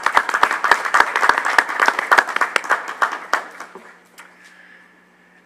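A school district Board of Education audience claps in sharp, distinct bursts that thin out and fade to quiet after about four seconds, leaving a faint steady hum.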